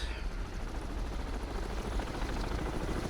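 Helicopter in the naval submarine game Cold Waters, a steady low rotor drone with broadband rumble that holds evenly throughout, moderately loud with no talk over it.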